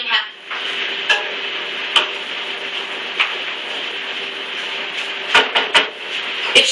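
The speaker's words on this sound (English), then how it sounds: "Now we're going to add more tomatoes to the saute pan to really get this dish going. You're going to give it a light stir" Tomatoes being stirred in a saute pan of unstuffed pepper meat sauce, a steady low sizzle under occasional light clinks and scrapes of a utensil against the pan, up close with no talking.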